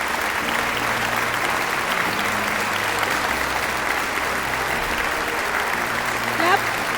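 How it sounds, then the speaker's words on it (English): Schoolchildren at an Independence Day ceremony clap continuously in a thick, even wash of applause, with a faint musical tone and a brief voice near the end. "Come on, children, clap once again."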